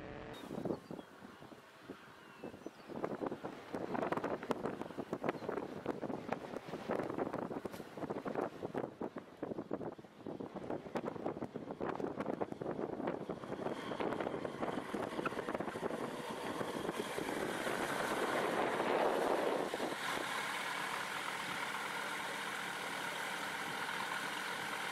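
A Zenith STOL CH 701 light aircraft back taxiing on a runway, its engine droning steadily close by and swelling louder toward the end, with wind buffeting the microphone.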